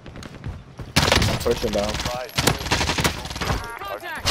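Automatic gunfire in a Warzone match, a loud bursting rattle that runs almost continuously for several seconds while players talk over it.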